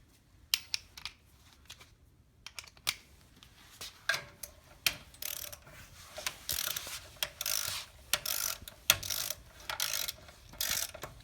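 Leveling kit bolts are tightened on a 1995 Ford F-150 with a ratchet, giving repeated close clicking bursts and short metallic scrapes that grow busier and more steady as the work goes on.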